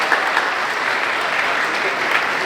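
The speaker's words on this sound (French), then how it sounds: "Applaudissements pour nos partenaires agences de voyage" A crowd at a travel company's twentieth anniversary event applauds partner travel agencies, a brief, loud, even burst of clapping filling the whole moment.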